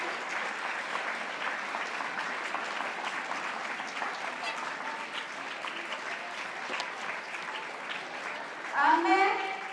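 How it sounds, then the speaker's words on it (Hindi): Steady applause from a live audience welcoming a guest named Reena Bhatti onto the stage at a motivational event, continuous for nearly ten seconds and swelling briefly louder near the end. "एक बार जोरदार तालियों के साथ रीना"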